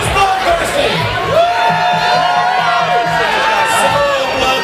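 A crowd cheers and whoops at a paintball karaoke event, with loud, sustained shouting and excited voices overlapping throughout.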